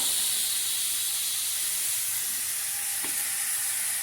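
Onion, green chili and tomato fry together for a chutney, giving a steady close hiss of sizzling oil throughout, with one faint clink near the end and no talking.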